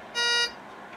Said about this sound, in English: let's go ahead and power the detector up